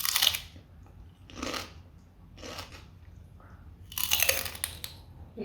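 Raw celery stalk bitten and chewed up close, a few separated crunchy bites with quieter chewing between them, fairly faint overall.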